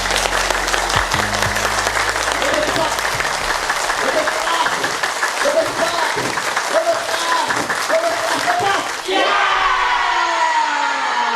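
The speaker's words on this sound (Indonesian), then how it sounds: "Untuk itu dalam 2 ketiga kita tepuk tangan." A crowd claps loudly and steadily for several seconds at a laughter yoga session, dense applause with scattered shouts mixed in, ending in a brief whooping cheer.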